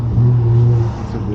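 Car engine droning and building in pitch as it accelerates, steady and fairly loud inside the cabin for a moment, with voices faintly underneath.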